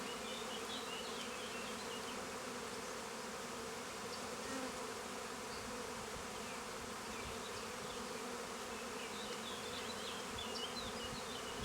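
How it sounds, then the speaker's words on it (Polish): Honey bees swarm and buzz steadily around an open beehive during an inspection, a dense, continuous drone close by with no talk over it. "Te pszczoły sobie to posprzątają."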